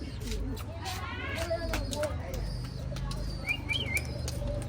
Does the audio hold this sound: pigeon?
yes